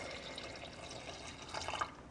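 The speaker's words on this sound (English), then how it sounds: "I'm going to add water to cover" Water being poured into a pot of chopped leeks and potatoes for soup, a soft continuous trickling and splashing, fairly quiet and close, with a few brighter splashes near the end.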